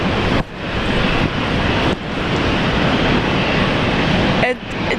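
A ten-year-old airliner in a new Korean livery at Brisbane Airport, its engines giving a loud, steady broadband roar that fills the whole stretch, with brief dips where a person talks over it.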